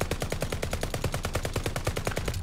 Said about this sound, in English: I could shoot all day long through that brick wall and nothing.